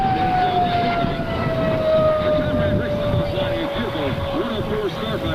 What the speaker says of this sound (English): What a way to turn JP fuel into noise right there.